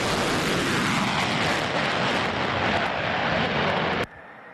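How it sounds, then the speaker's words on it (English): Military jets fly overhead at night in a loud, sustained roaring rumble that holds steady for about four seconds, then cuts off abruptly to quiet background. "people in the Northland and the UP could hear the jets"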